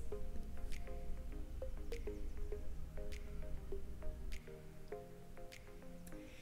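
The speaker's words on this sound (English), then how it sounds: "Then we're gonna start working the dough with our hands." Sticky bread dough for Nutella rolls kneaded by hand, giving a run of close, wet squishes and small slaps at a fairly even pace, with no talking.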